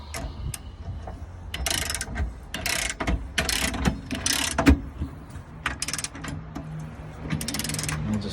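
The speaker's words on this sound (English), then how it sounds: "I'll just crank this until it clicks." Hand crank on an Anderson Ultimate fifth-wheel hitch being turned, giving repeated short ratcheting clicks and mechanical rattles at close range, in bursts with brief pauses and no talking.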